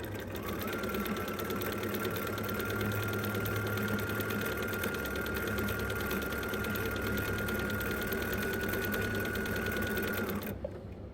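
A sewing machine runs continuously up close during free motion appliqué stitching, a steady buzzing drone that holds for about ten seconds before cutting off.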